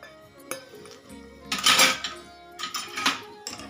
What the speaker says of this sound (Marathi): आता हे मिश्रण सगळं मिक्स करून घेऊया।